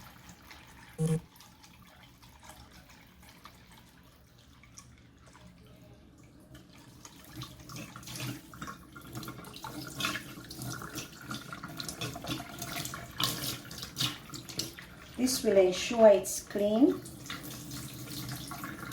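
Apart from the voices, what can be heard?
tap water running over chicken in sink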